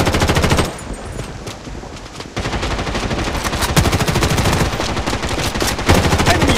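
Machine-gun fire in Bloodstrike rattles in long, rapid, loud bursts, close up and nearly continuous, with a short quieter lull early on before the firing resumes at full intensity.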